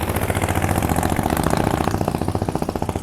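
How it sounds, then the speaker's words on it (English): A noisy motorcycle engine chugs close by with a rapid, even putter, loud and steady throughout, with no talking. "that was just a flyaway sound, so let's not judge it based on that noisy motorcycle"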